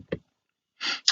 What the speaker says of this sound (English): Sorry, gotta sniff here.